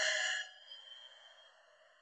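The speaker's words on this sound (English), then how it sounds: "take three deep breaths, breathing in through the nose and out through the mouth" A single slow, deep breath, beginning as a fuller exhale and then fading into a soft, hushed airflow, close and quiet.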